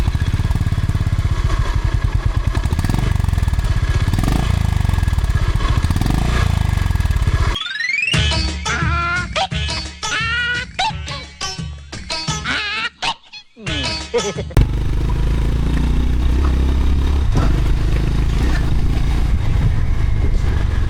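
Honda CB350RS motorcycle with only about 36 km on it, its engine running steadily through most of the stretch, broken by a short middle section of shifting tonal, honk-like sounds.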